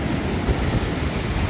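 Stormy sea waves wash in a dense, loud roar of surf, a continuous broadband rush without distinct breaks, heard up close with no talking.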